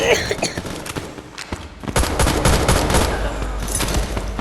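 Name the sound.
gunfire in a shooting video game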